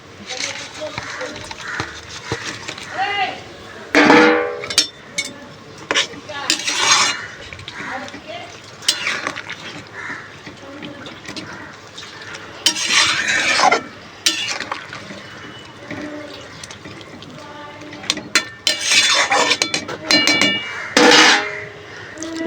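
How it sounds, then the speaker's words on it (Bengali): Fried fish and eggplant go into a bubbling fish curry in a pan and are stirred, giving intermittent scraping and clattering strikes of a utensil against the pot, with quieter simmering between the bursts. "আমি এবার ভেজে রাখা মাছগুলো আর বেগুনগুলো দিয়ে দেবো ঝালের মধ্যে।"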